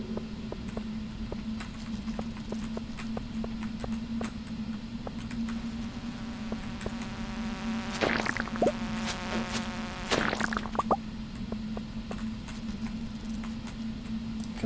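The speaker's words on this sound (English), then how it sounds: "Oh, and here come bugs." Bugs in the farming video game Stardew Valley, a steady soft insect buzz and hum with scattered light ticks and a brief burst of brighter chirpy game effects midway, quiet and with no talking.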